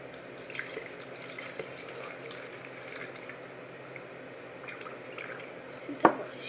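A small amount of milk poured into a blender jar, with a faint, steady liquid trickle against quiet kitchen background noise and a brief sharper splash toward the end.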